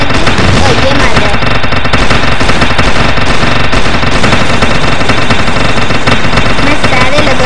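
Rapid automatic gunfire from the Rope Police video game, loud and continuous bursts of machine-gun fire filling the whole stretch with no talking over it.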